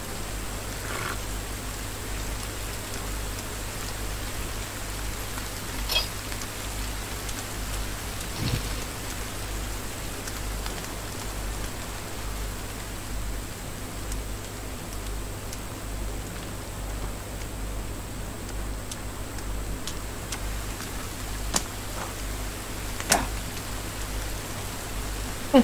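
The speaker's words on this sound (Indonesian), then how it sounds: "Oh, cantik lah hujan." Steady rain falls over a forest sawmill in Malaysia, a continuous even hiss with a few faint drips and clicks standing out, and no talking.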